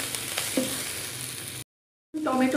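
Onions and tomatoes sizzle and fry in a pan while being stirred, a steady close hiss with a few scraping strokes, cut by a brief silence before the frying returns louder.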